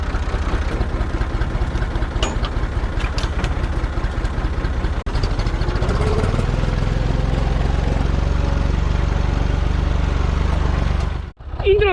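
A Massey Ferguson 240S tractor engine runs steadily and loudly, pulling a 359 kg eight-size plough. The engine note rises partway through as it works harder, then cuts out briefly near the end before resuming.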